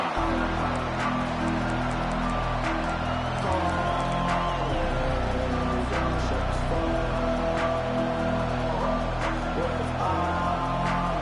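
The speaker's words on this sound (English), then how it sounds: "Listen to the crowd energy here in the early going." Stadium crowd noise in the College Football 25 video game, a dense, steady roar with scattered whoops and cheers from a big crowd at an Ole Miss versus Texas game, continuous and fairly loud throughout.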